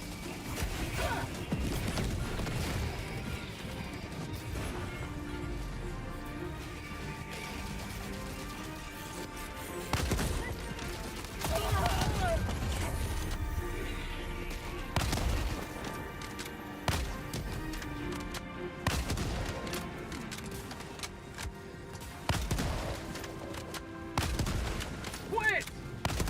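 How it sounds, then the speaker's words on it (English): Gunfire and a gas strike in Helldivers 2 bring repeated sharp shots and heavier booming blasts in irregular bursts over a continuous battle din, with occasional voices. "Firing gas strike."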